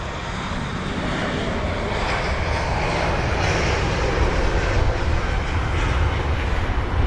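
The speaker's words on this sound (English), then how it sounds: "There's the Swiss A320neo. You get just rotating now." A Swiss Airbus A320neo airliner rotating on takeoff at London Heathrow, a loud, steady broadband engine roar that holds strong and close throughout with no voices.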